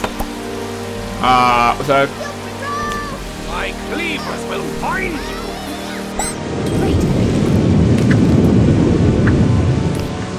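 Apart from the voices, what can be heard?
rain and thunder in the video game Octodad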